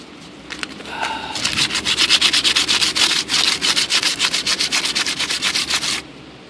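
Wood is sanded by hand with homemade bushcraft sandpaper coated in pine sap, a close burst of fast rhythmic scratchy strokes that runs for several seconds and then stops, with no talking.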